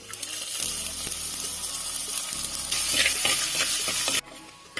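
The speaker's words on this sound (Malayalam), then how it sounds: "വെളിച്ചെണ്ണ ചൂടായിട്ടുണ്ട് അതിലേക്ക് നമുക്ക് ഇഞ്ചി വെളുത്തുള്ളി ചെറുതായി അരിഞ്ഞത് ചേർത്ത് കൊടുക്കാം" Finely chopped ginger and garlic frying in hot coconut oil for a Kerala fish curry, crackling and sizzling loudly and steadily with light stirring, then cutting off abruptly near the end.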